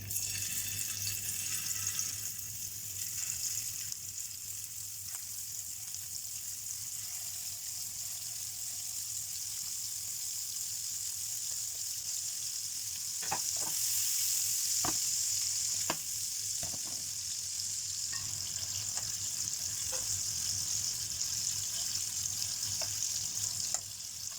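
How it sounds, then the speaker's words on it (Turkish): Steady loud sizzling of meatballs frying in oil, continuous throughout with a few light clicks and clinks of utensils. "kızartma yağımızda köftelerimizi kızartıyoruz"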